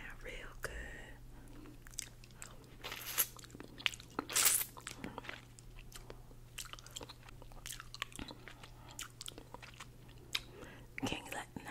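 Close, wet chewing and soft crunching of a teriyaki bacon meatball drenched in sauce, with irregular bites and squelches throughout, plus faint whispered talk between mouthfuls.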